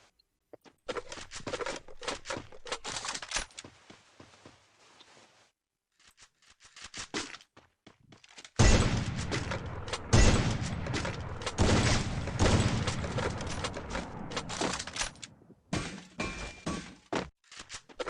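Grenade blasts and gunfire from a shooter video game arrive in clusters of sharp shots and heavier bangs, separated by a few brief silent gaps, loudest in the second half.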